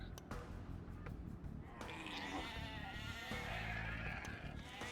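Someone speaks in the foreground while sheep in Age of Empires II bleat faintly under dense, continuous game sounds.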